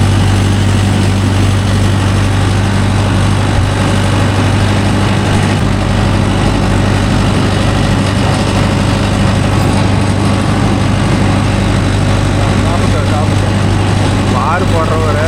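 Mahindra Yuvo Tech Plus 585 4WD tractor with a 42-blade rotavator, its engine droning loud and steady at close range the whole time, a deep continuous rumble with no letup.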